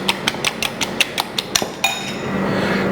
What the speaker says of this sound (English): And then we whisk the cream.